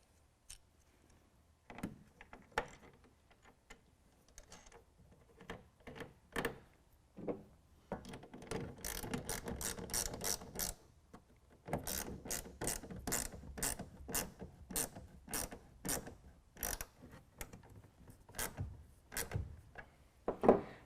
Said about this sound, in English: now I can go ahead and install my clamp